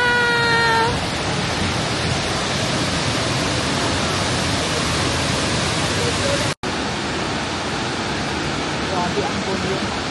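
A waterfall on a Northern California trip roars as a steady, loud broadband rush of water that stays unbroken throughout, with brief voices near the start.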